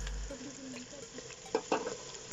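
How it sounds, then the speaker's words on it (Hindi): Sliced onions frying in a pan for a white lobia dish, with soft steady sizzling and a couple of louder scrapes as a spoon stirs them near the end. "उसमें साथ साथ चम्मच भी हिलाते रहें जी, ताकि प्याज फ्राई होने के अलावा कहीं काला ना हो जाए"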